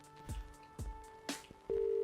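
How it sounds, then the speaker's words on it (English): In the video game Albert Wilde: Quantum P.I., a few quiet clicks of a phone handset are followed by a steady, continuous telephone dial tone that holds to the end. "There's a dial tone. They didn't cut off service yet."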